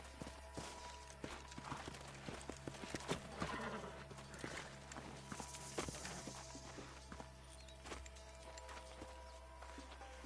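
Horse hooves clip-clop at a walk in the Red Dead video game, irregular close thuds over a steady low hum, with a short whinny-like sound in the middle, all fairly quiet.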